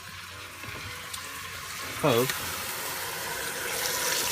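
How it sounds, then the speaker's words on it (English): Sauerkraut poured onto pork chops in a pan, a brief wet splash and slosh about midway, with a quiet sizzle and faint background noise around it. "So you take the sauerkraut and just pour it right in on top"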